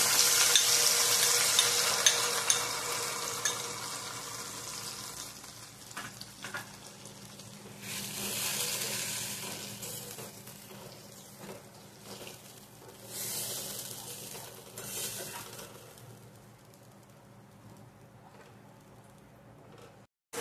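Onion, ginger, garlic, sour curd and dried and green chillies fry and get stirred in a pan, a loud sizzle fading across the clip with bursts of scraping from the spatula.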